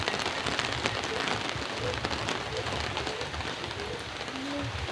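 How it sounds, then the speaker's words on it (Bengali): Steady rain falls on surfaces in a village setting, a dense continuous patter with occasional pigeon-like coos faintly in the background. "বৃষ্টি তো নেমে গেল"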